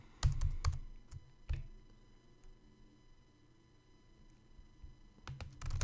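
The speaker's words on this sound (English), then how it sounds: "So I type something in." Typing on a computer keyboard: a short burst of quick clicks at the start, a few scattered keystrokes, then quiet before another brief cluster of taps at the end.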